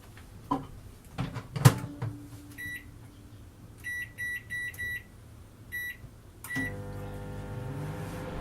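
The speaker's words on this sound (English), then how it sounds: "Now I'm going to warm up some milk, about 200 mils." A microwave oven heats about 200 ml of milk for hot cross buns: a door clunk and button beeps, then a run of short electronic beeps before the steady low hum of the oven running.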